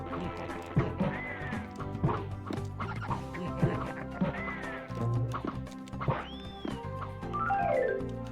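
Cartoon ducks quack repeatedly in a cluttered puzzle scene from Rayman Brain Games, mixed with bouncy game music, chirpy effects and rising whistle tones, fairly quiet overall.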